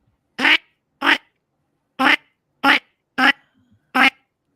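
A voice imitates the call of diver ducks, redheads and canvasbacks, with six short, separate, evenly spaced calls that are loud and close, with no other sound between them.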